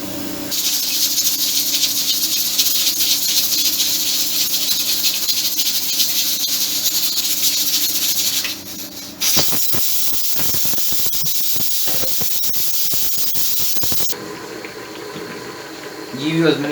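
A pressure cooker with chickpeas vents steam in a steady, loud, continuous hiss that briefly dips, then cuts out near the end, leaving quieter kitchen sounds.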